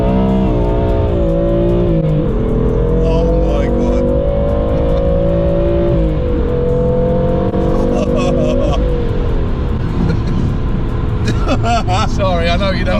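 Car engine revving hard under acceleration, a loud, steady roar rising and falling in pitch through gear changes, close and continuous, with voices talking over it near the end.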